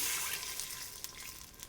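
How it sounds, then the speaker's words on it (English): Clam juice poured into a cooking pot while an octopus salad is made, giving a steady, soft watery pour that runs alone for the whole moment. "I do have some clam juice. I'll put some clam juice in here."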